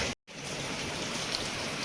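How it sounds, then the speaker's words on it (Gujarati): Rain falls at a farm field as a steady, dense wash of patter and hiss, briefly cut out near the start before resuming evenly. "વરસાદ ચાલુ થયો એટલે અંદર લીધા."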